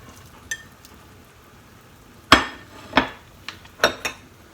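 Salmon and aburaage are added to a simmering pot of kasu-jiru: scattered clinks and knocks of utensils against the pot, several sharp contacts over faint background quiet.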